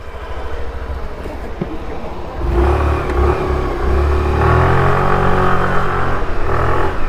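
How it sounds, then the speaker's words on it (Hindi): A Suzuki Access 125 scooter engine runs steadily after a service for a noise problem, a continuous low drone that grows louder and heavier partway through, with no talk over it. "पतला जो साउंड था ना पूरा का पूरा ख़त्म हो गया है, बहुत प्यारा साउंड कर रही गाड़ी।"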